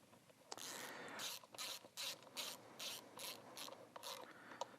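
A ratchet tightens the jack shaft nut on a Harley-Davidson Dyna chain drive conversion, giving about eight quick, evenly spaced bursts of clicking pawl, close and clear after a brief scrape.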